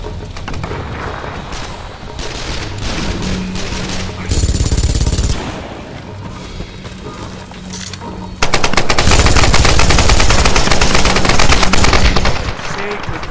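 Gunfire in a Tomb Raider Definitive Edition online team deathmatch: rapid automatic bursts and heavy shots, loud and close, with a sustained fusillade toward the end and game sounds filling the gaps.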